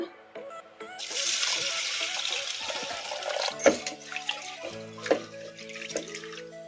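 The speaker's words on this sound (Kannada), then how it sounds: "ಈ ಬೇಳೆಯನ್ನು ತೊಳೆದಿಟ್ಕೊಂಬಿಡೋಣ" Running water splashes steadily while half a cup of split pigeon peas (toor dal) is rinsed in a bowl for brinjal sambar, with sharper clinks and sloshes of the vessel standing out near the middle and end.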